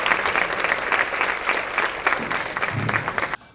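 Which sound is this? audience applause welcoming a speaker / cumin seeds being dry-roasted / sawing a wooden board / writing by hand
audience applause welcoming a speaker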